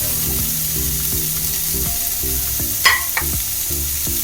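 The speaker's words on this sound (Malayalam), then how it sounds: "ഇനി നമുക്ക് അരിഞ്ഞു വെച്ചിരിക്കുന്ന ബ്രക്കോളി ചേർക്കാം" Chopped broccoli hits a hot pan for broccoli soup and fries with a steady close sizzle, broken by a few stirring clinks and scrapes.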